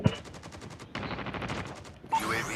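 Sniper rifle gunfire in a video game: a quick run of sharp, evenly spaced shots, followed by a brief change in the fire near the end, with no talking over it.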